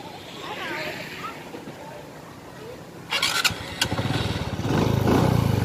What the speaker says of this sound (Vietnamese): Nổ máy em nghe nha.